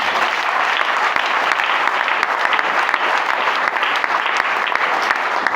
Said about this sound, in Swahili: Upe makofi mazuri.